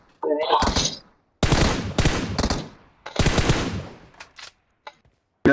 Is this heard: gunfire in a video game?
yes